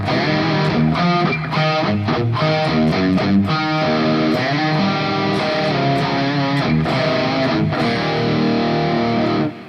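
Distorted electric guitar chords, each sustained chord wavering with pronounced vibrato, loud and continuous with strummed attacks and no voices.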